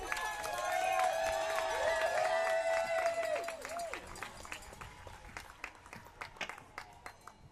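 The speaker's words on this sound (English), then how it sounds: "Give a big round of applause to all the survivors and all the victims and all the supporters today" Applause from a crowd at an outdoor survivors' rally, a steady burst of clapping that swells early and thins out to scattered claps, with a voice speaking over it at the start.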